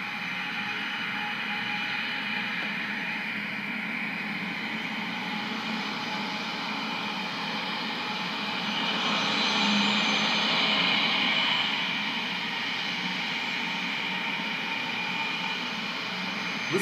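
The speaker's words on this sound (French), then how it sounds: "C'est l'avion de Sassou qui décolle, qui va décoller de l'aéroport" A private jet takes off from the international airport at Olombo, a distant, sustained engine roar that swells in the middle and then eases, heard alone across open ground.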